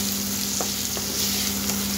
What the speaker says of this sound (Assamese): এতিয়া ভালদৰে এইখিনি অলপ ৰঙচুৱা কৰি ভাজি লম।